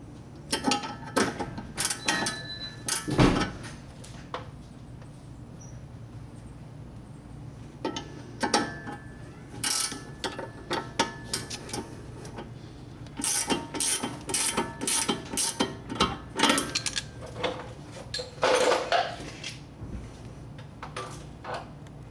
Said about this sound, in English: This is the torque wrench. There's our 35 foot-pounds.